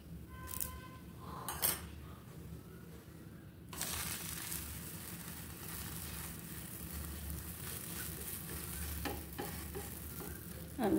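Small pancakes sizzle in a pan for a child's tiffin box, a soft steady frying hiss with occasional scraping and utensil clinks as the batter is turned, close and quiet with no talking.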